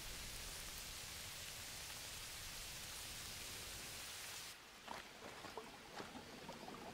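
Rain falling in the Amazon rainforest of the survival game Green Hell, a dense, even hiss of downpour that suddenly drops to a quieter patter with scattered drips near the end.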